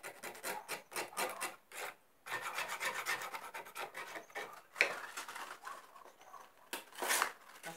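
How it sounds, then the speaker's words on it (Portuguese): Sandpaper rasps back and forth over a wooden window frame in steady, close strokes, with a brief pause partway through and a sharper scrape near the end. "Passar essa lixa aqui, ó."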